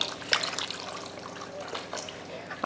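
Water is poured into a pot of tamarind kuzhambu curry being cooked, a soft, close trickle and splash with a few brief sharper drips over a quiet kitchen background.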